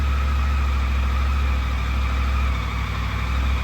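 A 2023 Triumph motorcycle engine idles steadily and close by, a continuous low throbbing rumble with no break or rise across the few seconds.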